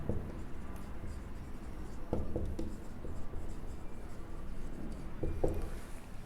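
A pen scratches out a maths proof by hand on paper: steady soft scribbling with short bursts of quicker strokes and taps, close up, with no voices.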